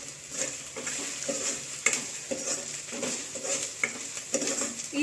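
Chopped tomato goes into a hot pan for egg rice and is stirred, steady sizzling frying overlaid with repeated scraping strokes of a spatula against the pan at a regular rhythm.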